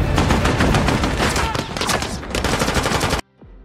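Rapid bursts of gunfire crackle densely through a film battle scene, loud and nearly continuous for about three seconds, then cut off abruptly.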